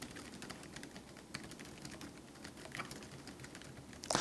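Rapid clicking of keys on a computer keyboard that doubles as a touchpad, steady and close, with a slightly louder clack at the very end.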